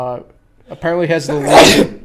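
A loud, sudden sneeze bursts out near the microphone right after someone speaks during a sports broadcast, sharp and brief.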